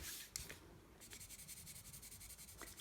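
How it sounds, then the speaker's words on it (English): A coloured pencil shades across a sheet of paper in quick, rhythmic back-and-forth strokes, soft and close, after a brief initial scratch, with no talking. "Sometimes you get a coloured pencil and you shade and it doesn't look as nice."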